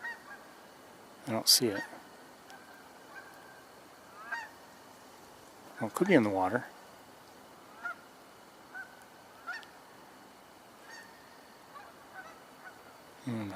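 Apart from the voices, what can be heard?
geese honking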